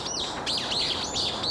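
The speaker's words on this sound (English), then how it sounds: "those birds are fucking loud" Loud birds chirp near a coastal walk from Hamdeok Beach toward Jeju City, Korea, a few sharp, sweeping tweets repeating in quick bursts, with no voices.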